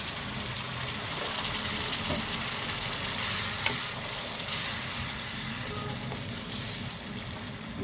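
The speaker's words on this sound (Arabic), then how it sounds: "نزل شويه كده من عصير الطماطم، نقطتين كده خل كده" Tomato juice and a few drops of vinegar simmering and sizzling in a pan for moussaka, a continuous close bubbling and frying crackle with faint stirring and no speech.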